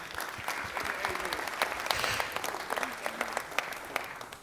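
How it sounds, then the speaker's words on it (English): Sustained applause from an audience at a legislative farewell speech, steady dense clapping with a few louder individual claps, continuing throughout at moderate distance. "That deserves an applause."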